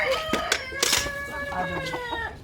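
Chickens in a backyard coop cluck and call repeatedly at close range, with several overlapping squawks and short tonal calls.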